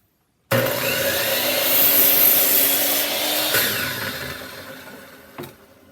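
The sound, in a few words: saw cutting wood for an entryway hanger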